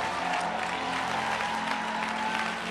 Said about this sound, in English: Come on, clap your hands and let's go.